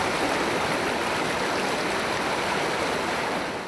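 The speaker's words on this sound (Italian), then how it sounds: "la corrente del fiume è forte" A strong river current in Montello, at times violent, rushes steadily as a dense, unbroken roar of water that stays loud throughout and eases slightly only at the very end.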